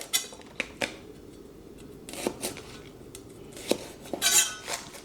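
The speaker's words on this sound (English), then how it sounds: "We're just going to trim the tips off." A knife taps and clicks against a cutting board while trimming the tips off spring onions. It gives a few sharp, close cuts spread unevenly across a quiet background with no talk.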